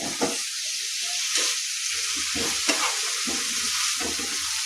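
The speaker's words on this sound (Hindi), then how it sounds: "एकरा बढ़िया जकाँ मिला दै छियै जेकि मसाला सबटामे बढ़िया जकाँ लागि जेतै" Spices being stirred into bean and potato curry frying in a pan, with a steady sizzle and repeated scraping strokes of the spoon close by.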